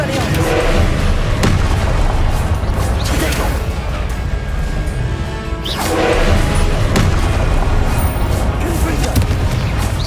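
The Expelliarmus spell is cast during combat in Hogwarts Legacy, a loud, dense mix of magical blasts, booms and crashing thuds that run without a break.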